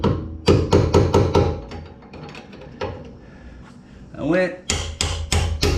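A hammer strikes metal while a bearing race is driven out of a Dana 44 axle during seal replacement, loud close ringing blows in quick bursts separated by a brief spoken remark.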